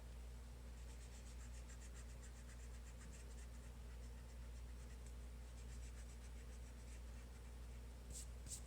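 A pencil eraser rubs back and forth across paper while lines of a box in an optical illusion drawing are cleared, a steady soft scratchy rasp up close, ending with a couple of sharper strokes.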